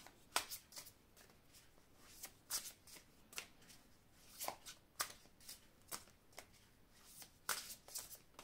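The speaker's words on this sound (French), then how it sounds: "Je vais prendre ici une carte des guides de lumière." An oracle card deck being handled and shuffled, rapid crisp card flicks and riffles in irregular bursts, close and soft, with no voices.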